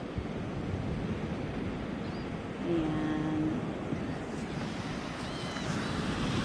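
Ocean surf washes continuously under wind noise on a shore in America, a constant broad rush with a brief tonal hum midway and a single short spoken word.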